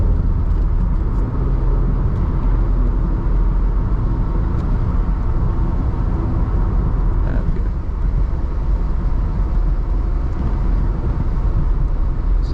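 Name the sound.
Toyota MR2 accelerating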